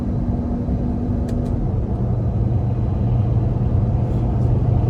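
A 2012 Lamborghini Aventador LP-700 engine on the road, heard as a steady low drone from inside the cabin that holds an even level throughout with no speech.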